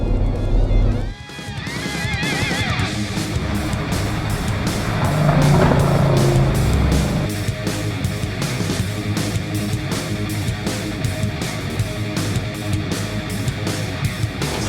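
A supercharged Jeep Gladiator engine runs loud and close, idling with a steady rumble and briefly swelling as it revs before settling back to an even drone.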